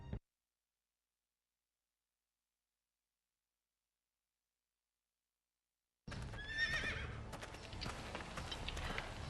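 After a long silence, a horse whinnies loudly over steady galloping hoofbeats and a busy background in the Game of Thrones video game, moderately close.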